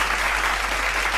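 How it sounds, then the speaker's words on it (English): Continuous applause from a crowd of people, a dense, even wash of hand clapping that stays loud and steady throughout with no pauses. "clap it up for that one"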